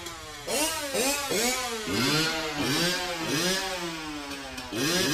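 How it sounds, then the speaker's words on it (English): A dirt bike engine revs repeatedly in a rising, falling melody, each loud rev sweeping up and down in pitch, close and continuous for several seconds. "please rise for our national anthem, performed this afternoon by Peter Griffin and his dirt bike."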